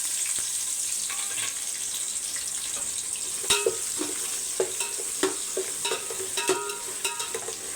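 Big onions sizzle steadily as they fry in a pan, with sharp scraping clicks from a spoon stirring them at irregular intervals over the constant hiss.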